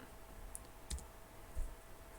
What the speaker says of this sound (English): just press delete